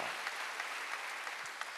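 Steady clapping from a church congregation at a Wednesday worship service, a soft even patter of many hands held at a distance with no voices over it.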